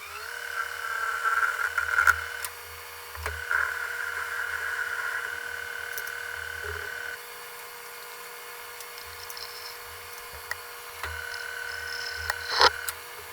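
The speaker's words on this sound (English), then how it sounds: "Valve cover drilled, tapped. All the holes are tapped and drilled." Drill whining through holes in an engine valve cover in a workshop, a thin high-pitched tone rising in several bursts with quieter gaps, close by, plus a few small clicks and taps.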